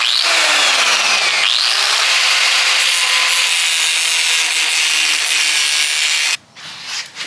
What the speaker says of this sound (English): we're going to cut this key down to size